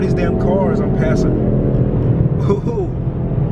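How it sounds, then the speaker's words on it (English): Steady road and engine rumble from inside a moving car on a Minneapolis street as it overtakes other vehicles, a continuous low drone with a brief swell of a passing car midway and talk over it. "Oh, look at all these damn cars I'm passing."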